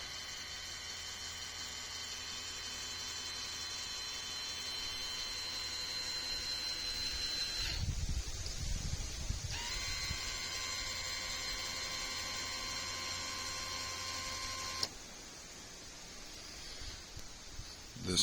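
Electric linear actuators on a kayak whine steadily as they drive the steering and tilt, a continuous motorized hum that changes pitch and pauses abruptly between movements, close and even in level.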